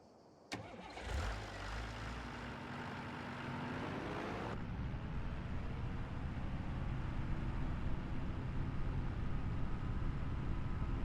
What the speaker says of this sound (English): this is our trusty rice harvester